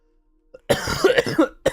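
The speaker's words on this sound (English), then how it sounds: "Now I'm coughing up my lungs for no reason." A quick, harsh fit of coughing, loud and close, with several hacking bursts and one more cough after a brief pause.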